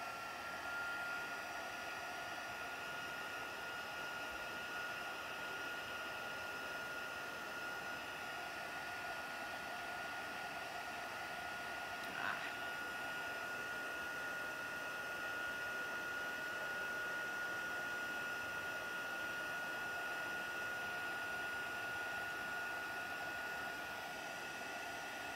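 A heat tool blows hot air to melt embossing powder for a black ice stamping technique, a steady even whir with a high tonal whine that keeps going without a break, and one faint tick partway through.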